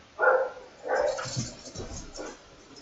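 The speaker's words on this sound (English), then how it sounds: "there goes my dog" A dog barks in the Star Wars Galaxy of Heroes mobile game: one sharp bark, then a longer run of barks trailing into softer yelps, fairly loud and with no voices.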